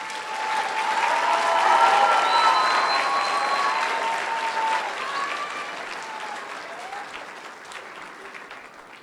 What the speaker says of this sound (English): Please give this group of students a round of applause.